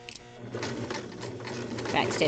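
Sewing machine running steadily along a marked seam line in a pinned garment body, a continuous close whirring stitch with slight speed changes, with a voice talking over it.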